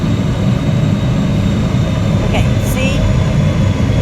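A big jet roars overhead in PowerWash Simulator, a loud, steady broadband rumble filling the whole stretch while someone speaks briefly over it.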